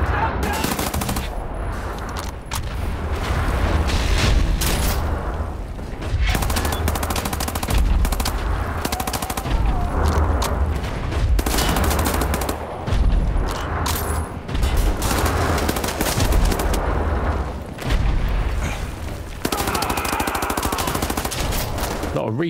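Rapid automatic gunfire from a first-person shooter game, Wolfenstein: The New Order, loud and near, bursts repeating throughout with brief gaps and booming low end, no talk over it.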